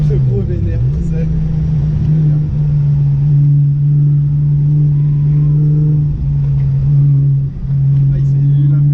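A Volkswagen Scirocco TSI of 280 hp accelerating on the road, its engine a steady droning hum that holds close and loud across the stretch, with a brief dip near the end.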